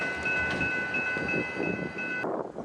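BNSF freight locomotive 1981, a former BN SD40-2, rumbling past with a steady high tonal whine over a low engine drone for about two seconds, which then cuts off to a quieter rumble.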